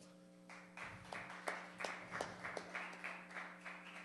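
A small audience claps for comedian Paul Cardozo at a live show, a faint, sparse patter of hand claps with distinct individual claps and a steady hum underneath.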